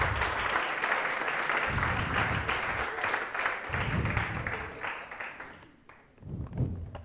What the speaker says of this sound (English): Let's give another round of applause to Sybren.